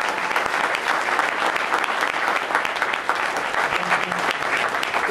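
A panel audience at PAX Prime 2011 gives an OC Remix contributor a round of applause, a steady, dense wash of clapping from many hands that fills the room throughout.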